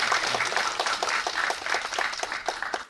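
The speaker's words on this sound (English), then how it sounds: "Let's give them a round of applause." A workshop audience applauds briefly, a moderate, fairly even patter of clapping hands lasting under three seconds.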